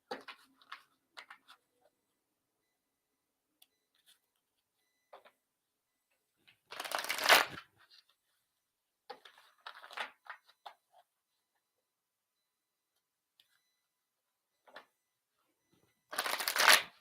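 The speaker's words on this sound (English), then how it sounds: "All right, so I am shuffling the cards." Tarot cards are shuffled by hand in quiet, recurring bursts of riffling and flicking, with soft taps between them and two louder, longer riffles separated by silence.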